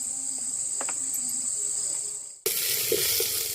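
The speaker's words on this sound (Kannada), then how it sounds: "ಎಣ್ಣೆ ಕಾದ್ಮೇಲೆ ಈರುಳ್ಳಿ, ಬೆಳ್ಳುಳ್ಳಿ, ಕರಿಬೇವು ಇಷ್ಟೇನಾ? 3 ಹಾಕಿ ಎಣ್ಣೆಲಿ ಬಾಡಿಸ್ಕೋಬೇಕು," Onion, garlic and curry leaves hit hot oil in an outdoor courtyard kitchen: a steady high insect chirp gives way to a sudden, loud, dense sizzle that keeps crackling to the end.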